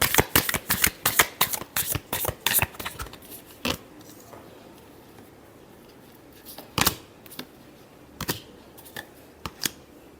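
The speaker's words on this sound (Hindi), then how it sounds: "Last shuffle." A deck of tarot cards riffles and shuffles at close range: a fast run of crisp flapping card snaps at first, then quieter, sparser taps and shuffles, with no voice over them.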